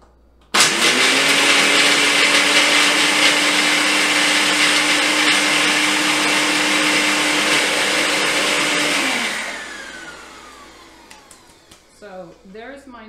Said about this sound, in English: And we're just going to blend this up